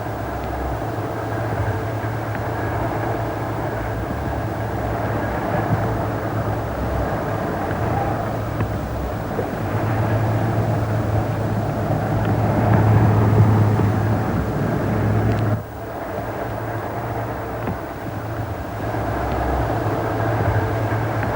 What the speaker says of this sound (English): Junction Road Halt was about to receive its last train.